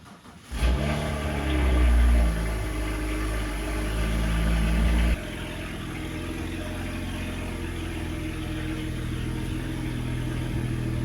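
A BMW E92 335i runs as it is driven out of a garage: a loud, close engine revs up hard, then drops to a steadier, lower drone that carries on to the end.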